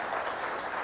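Studio audience applause on a live Ramadan iftar television show, a dense, even burst of clapping heard alone for under a second.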